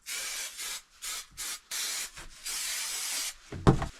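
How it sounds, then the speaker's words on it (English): Spray adhesive hisses from a can onto an insulation panel in a camper van build, in several close, loud bursts of varying length separated by brief pauses, then a final knock. "I'm going to use the spray stuff now, spray it on, see if it sticks."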